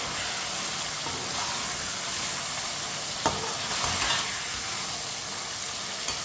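Sliced green chilies for aloo pulao, stirred in a hot pan with a constant close hiss and sizzle, and an occasional scrape of the spoon.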